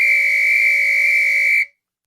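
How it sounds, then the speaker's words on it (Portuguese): A whistle is blown once in a single steady, shrill tone that holds for about a second and a half, then cuts off abruptly, loud and close with no voices. "sopravam um apito"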